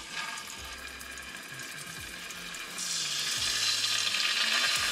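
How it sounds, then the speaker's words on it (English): Pork loin back ribs fry in a hot pan on a gas stove: a steady close sizzle that swells louder and brighter partway through as the meat hits the oil, with no voices. "Once the pan heats up, then we'll bring the pork chops."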